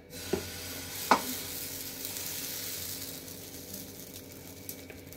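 Uttappam batter sizzles on a hot griddle as a soft, steady frying hiss with a few faint clinks, close and quiet.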